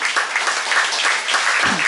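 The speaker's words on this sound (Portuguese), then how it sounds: "Palmas para quem? Para Jesus." Congregation applauding together in a church service, a dense steady patter of many hands at close range, with a brief low vocal sound near the end.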